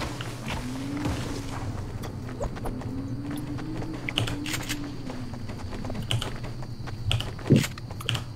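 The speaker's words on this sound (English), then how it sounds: "The keyboard's loud in general, and I tend to hit the keys apparently harder than normal." Rapid, hard computer keyboard clacking from keys struck forcefully, close and steady throughout, with a low hum in the background and a sharper thump near the end.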